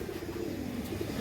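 Pair of Chuithal pigeons cooing softly and steadily, a low continuous murmur of coos close by with no talk.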